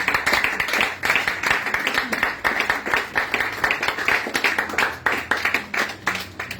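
Congregation at a prayer and teaching gathering clapping and applauding in praise, a dense, steady wave of hand claps sustained throughout at close range with some faint voices mixed in.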